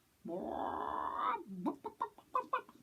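A storyteller's voice imitates a hen: one drawn-out squawk, then a quick run of short, close clucks.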